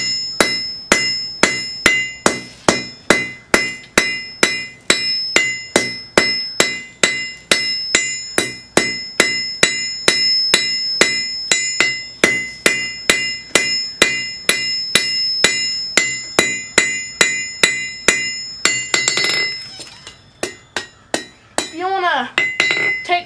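Steady, rhythmic hammer blows ring out as hot steel is drawn into a taper on a fire poker at a forge anvil, loud and close, dozens of evenly spaced metallic strikes with a brief pause and a few quicker taps near the end.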